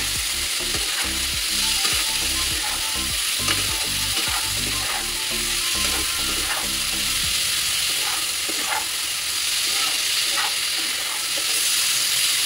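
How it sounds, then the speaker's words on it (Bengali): Spice paste of turmeric, chili powder, ginger and cumin frying in oil for a rohu fish curry, a loud steady sizzle with rhythmic spatula scraping and knocks that ease off partway, no talking. "ভালো করে কষিয়ে নিতে হবে মশলাটাকে"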